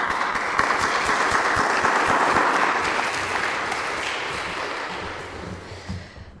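Sustained audience applause at a public forum on U.S. drone wars, a dense wash of clapping that holds steady for several seconds, then thins and fades near the end.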